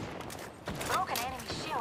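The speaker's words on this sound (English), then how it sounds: "And we're shooting." Gunfire in the battle royale shooter Apex Legends during a ranked match: a short volley of shots under player voices and game chatter.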